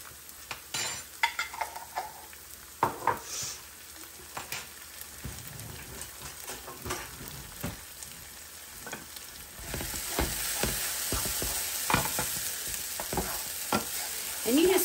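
Minced garlic sautéing in a pan with celery and onions for shepherd's pie, a steady close sizzle broken by scraping stirs and clinks, the frying growing louder and denser toward the end.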